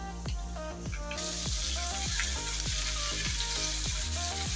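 Bitter gourd pieces sizzle and fry in a spice paste in a pan, a steady close crackling hiss with light stirring clatter, with faint instrumental music playing underneath.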